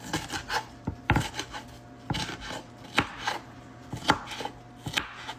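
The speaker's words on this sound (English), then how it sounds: "You guys like my chopping skills?" A knife chops vegetables for tacos on a cutting board, quick irregular knocks repeating throughout, fairly close and alone without speech.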